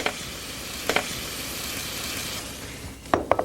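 Mussels with butter, cream and kirsch cook in a pan, giving a steady soft sizzle with a few light clinks of utensils against the pan, close and fairly quiet.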